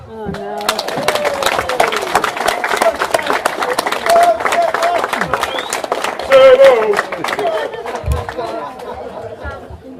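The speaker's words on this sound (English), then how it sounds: "Ladies and gents, please will you make a huge round of applause." Wedding reception guests clap and cheer before the speeches begin, a lively crowd of applause mixed with loud chatter and voices, rising in the middle and trailing off toward the end.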